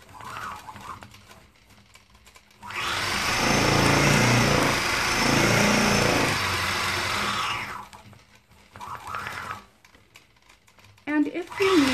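A quilting machine stitches a long straight run across fabric, a steady rhythmic mechanical whir lasting several seconds, framed by quieter handling sounds before and after.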